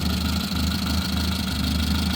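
A 2001 Maruti Suzuki Zen LX car engine idles steadily with a low, even hum and a faint rhythmic knock, heard close and alone without any talk.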